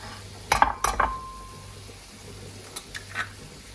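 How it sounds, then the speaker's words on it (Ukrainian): An egg is cracked on a rim and poured into a pot of water with vinegar for poaching: a few sharp clinks and knocks, then quieter splashy taps, close and in a calm kitchen. "Тепер акуратненько розбиваємо яйце так, щоб ви його не пошкодили."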